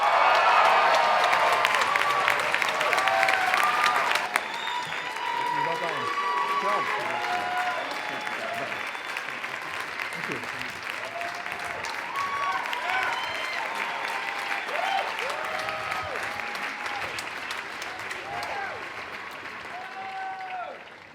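A large audience at the 2014 Stanford Graduate School of Business diploma ceremony bursts into sustained applause with scattered cheers. The clapping is loud at first, then settles into a long, even roar that slowly fades toward the end.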